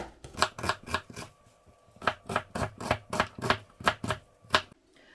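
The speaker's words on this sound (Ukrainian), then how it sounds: "Цибулю також наріжемо невеликими кубиками." Knife chopping onion into small cubes on a board: two close bursts of quick, even chops, crisp and fairly loud, separated by a short pause.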